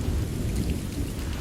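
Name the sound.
rain and thunder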